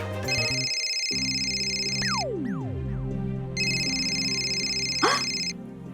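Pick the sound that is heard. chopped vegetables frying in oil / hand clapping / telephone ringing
telephone ringing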